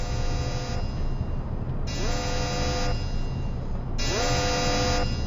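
Repeating electronic alarm in the space game Freelancer (Crossfire mod), a tonal blaring pattern that cycles in bursts roughly every two seconds over a steady engine-like hum, loud and continuous, no talk.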